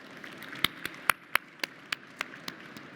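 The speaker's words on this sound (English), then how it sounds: "a round of applause also to all the change makers in the house" Scattered claps from an audience at a youth parliament session on a well-being economy, about nine sharp, separate hand claps spaced unevenly, fairly faint in a quiet room.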